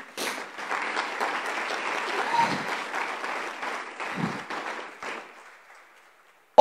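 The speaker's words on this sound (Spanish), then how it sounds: "Yo le daría un fuerte aplauso al Señor Jesús." A church congregation claps and applauds for about five seconds, a dense, steady wash of hands that swells slightly and then tapers off into silence.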